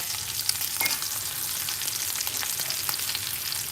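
Food fries in a hot pan at a lunchtime food stall, making a steady, loud, close sizzle and crackle throughout, with no talking.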